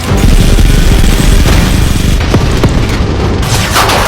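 Heavy gunfire in an action movie scene, a loud continuous barrage of booming shots and bursts filling the whole stretch with no speech.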